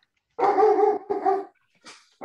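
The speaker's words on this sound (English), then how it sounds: "Is that your beloved dog?" A pet dog barking close by in a home: two loud, gruff barks in quick succession, then a brief softer yip and the start of another.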